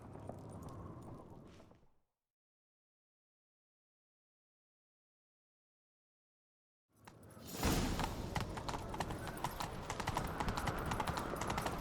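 Horse hooves gallop in a fast, steady clip-clop rhythm after a long silent gap, loud and close with a busy whooshing backdrop, in The Witcher 3: Wild Hunt.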